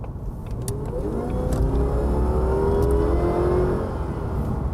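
A Jaguar XKR accelerating hard to overtake on a country road, engine note rising and swelling in pitch over a continuous road rumble, loud and close.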